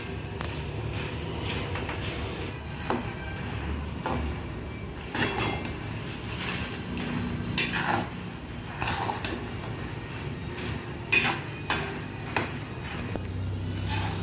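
Fried poha chivda stirred in a pan, with irregular scraping knocks and light clatters of the spoon against metal over several seconds, fairly quiet and close.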